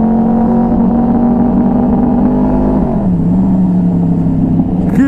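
A Yamaha R1 crossplane motorcycle engine revs loud and close in A mode, holding a steady high pitch and then dropping slightly, running continuously with no talking.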